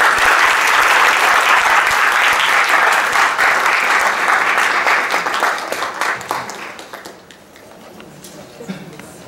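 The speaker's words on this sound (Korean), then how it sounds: "박수 한번 해주십니다." A church youth congregation in Toronto welcomes a guest preacher with a burst of loud, dense clapping that swells, then tapers off into a few scattered claps and room noise.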